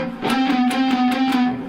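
A distorted electric guitar playing a metal-style riff, a heavy sustained tone with rhythmic picked accents repeating over a short stretch, loud and close.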